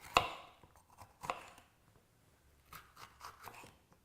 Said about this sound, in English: Step 1, cut the pepper.